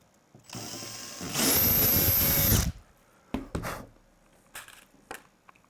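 A power drill runs in one sustained whir lasting about a second as it drives a fastener into a bumper, followed by several short clunks and handling knocks as the part is adjusted.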